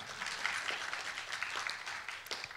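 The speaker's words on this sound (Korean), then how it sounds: "자, 이렇게 보통 이러면 박수를 칩니다." Lecture audience at a special lecture on AI and digital knowledge gives faint, distant applause, a soft continuous patter of many hands clapping that holds steady for a couple of seconds.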